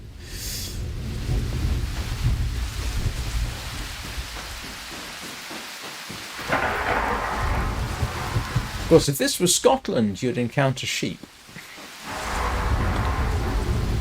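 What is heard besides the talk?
rain and thunder effect from a video game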